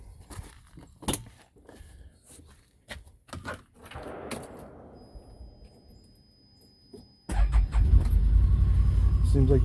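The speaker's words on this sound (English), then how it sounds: "I'll start it up for you." A 2020 Can-Am Defender Limited Max side-by-side is started: key clicks and a brief electronic hum, a pause, then the engine catches and settles into a steady, close idle rumble; someone speaks beforehand.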